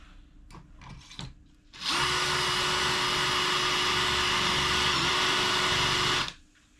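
A power drill spins up and bores a hole in scrap wood steadily for about four seconds at a constant loud whine, then winds down, after a few brief knocks.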